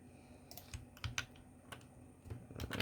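Keys on a computer keyboard clack in short irregular bursts while HTML code is typed, close and fairly quiet over a faint background hum.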